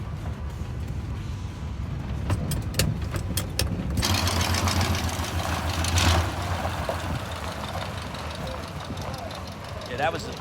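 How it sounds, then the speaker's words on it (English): A Chevrolet C20 truck engine with an exhaust leak idles with a rough, sputtering low rumble and a ticking, puffing rattle, while voices talk over it. "that's an exhaust leak"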